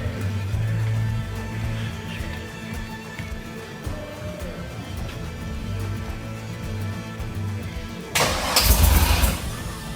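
An LS V8 swapped into a Chevy C10 pickup cranks over with a rhythmic starter churn, then fires up abruptly near the end into a louder, rough running rumble, heard close with no talk.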